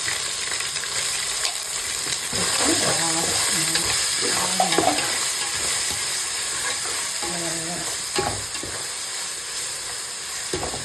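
Ginger garlic paste frying for homemade chicken biryani, stirred repeatedly so that scraping strokes rise over a continuous close hiss and sizzle.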